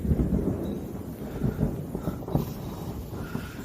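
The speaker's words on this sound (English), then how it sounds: "Still a little bit of rumbling going on." Distant thunder rolling at the tail end of a storm with light rain still falling, low soft rumbles rising and fading in uneven waves, faint and far off, no voices.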